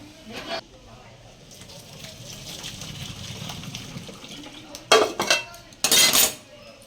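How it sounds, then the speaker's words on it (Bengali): Boiled papaya tipped from a pot into a basket for papaya chutney, heard as two loud wet splashing, clattering bursts near the end after a quiet, steady kitchen background. "এবার এটাকে পুরো একটা পাত্রের মধ্যে, ঝুড়ির মধ্যে ঢেলে দিতে হবে"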